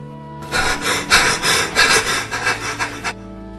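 Bread being broken into pieces as a radio drama sound effect, a close, loud dry crackling and tearing that pulses in short bursts for about three seconds, with no voices.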